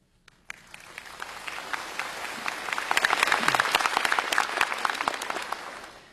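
An audience at a Buddhist lecture on the Vimalakirti Sutra breaks into applause, the clapping of many hands building for a few seconds and holding steady, moderately loud, with no speech over it.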